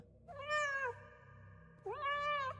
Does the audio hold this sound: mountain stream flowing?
no